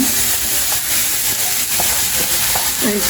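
Grated carrots fry in ghee in a pan for carrot halwa, a steady loud sizzle and hiss running throughout with occasional scraping taps of a stirring spoon.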